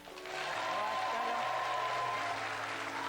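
A studio audience applauds in a steady wash of clapping that swells within the first half second and holds evenly, with faint background tones underneath.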